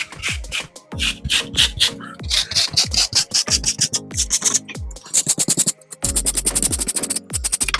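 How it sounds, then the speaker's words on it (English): Peeled carrots grated by hand for coleslaw: rapid rasping strokes in quick rhythmic bursts, close and fairly loud, with short pauses between runs and no speech. "Just grate them 2 carrots into there."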